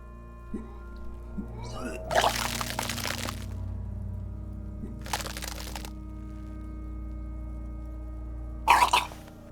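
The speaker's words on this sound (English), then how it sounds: "Your body curls and pushes it out, burst by burst, until a pool of vomit lies under your feet" Retching bursts from a character vomiting in the Disco Elysium video game: three separate splashy gagging heaves spaced a few seconds apart over a low steady ambient hum, the first longest, the last short and sharp.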